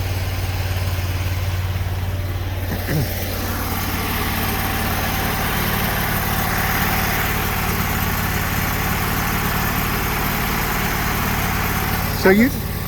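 A 3500 PSI, 6 GPM sewer jetter engine runs at a steady idle throughout, a constant close mechanical drone with a couple of brief clanks, while people talk over it.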